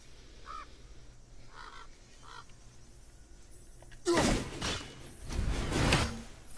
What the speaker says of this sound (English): I think I hear an Odin's Raven.